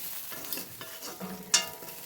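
A simple curry of urad dal wadi (dried lentil dumplings), with coriander powder just added, is stirred in a pan, giving soft scrapes and low sizzling and ending in one sharp clink, close and fairly quiet.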